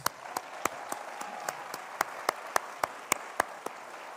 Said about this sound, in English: Commissioner Dennis Moss, Mr. Chairman, please give him a round of applause